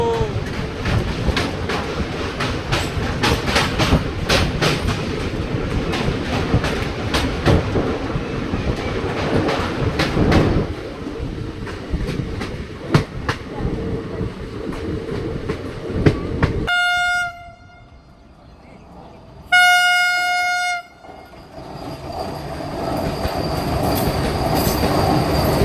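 The Kalka-Sainagar Shirdi superfast train runs with a steady rumble and rapid clickety-clack of wheels on rails, then turns quieter while a loud horn sounds in two long blasts before the rolling noise returns.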